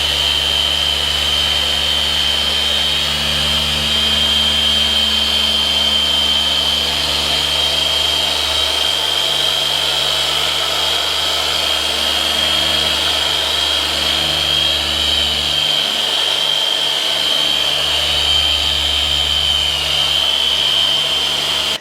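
Machine polisher buffing car paint with a swirl remover during detailing, a loud steady motor whine with a constant high-pitched tone, running continuously with no talk.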